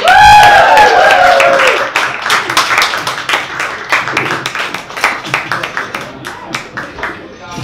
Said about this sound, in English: A little bit of a cheer, a little bit of bang those hands together, a little bit more of a cheering.